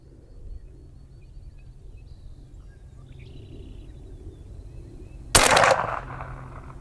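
One loud, close rifle shot from a 350 Legend fired at a target on an outdoor range cracks suddenly near the end, after several seconds of quiet with faint bird chirps, and its echo trails briefly afterward.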